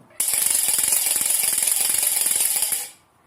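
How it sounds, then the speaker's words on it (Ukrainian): A traditional Ukrainian wooden ratchet toy, a derkach, spun steadily for almost three seconds, giving a loud, dense, rapid rattling clatter with a bright edge that stops abruptly. "Така гірочка називається деркач. Її потрібно крутити і він створює дуже гарне деренчання."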